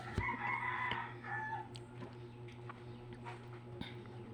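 A chicken clucks and calls close by, a few throaty vocalizations at the start, then quieter scratching and faint clucks over a low background hum.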